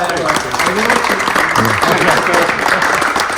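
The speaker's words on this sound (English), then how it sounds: "big applause for him" Applause from a tour group in a trolley and railroad barn, steady crowd clapping with voices mixed in, continuous and fairly loud throughout.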